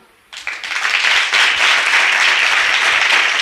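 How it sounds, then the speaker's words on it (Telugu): A church congregation breaks into loud clapping after a brief quiet moment, and the dense applause carries on steadily to the end. "కొడితే గట్టికి చప్పట్లు కొట్టండి"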